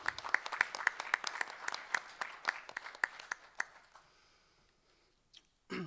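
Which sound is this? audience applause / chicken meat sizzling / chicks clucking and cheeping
audience applause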